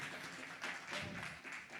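A church congregation applauds with a soft, continuous wash of clapping that swells slightly and sounds faint and distant.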